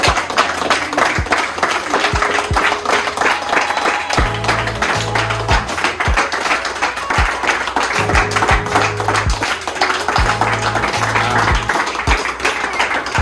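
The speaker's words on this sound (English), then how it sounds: "Could I give them a round of applause now, please?" Steady, enthusiastic applause from a crowd fills the whole stretch, with dense clapping continuing without a break, while a low rhythmic beat thumps underneath.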